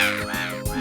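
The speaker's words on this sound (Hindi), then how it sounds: "लेकिन ये कौवे लोग इतना शोर क्यों करते हैं?" Crows cawing in a cartoon monsoon scene, a few harsh calls rising and falling in quick succession, fairly close and clear with no talk over them.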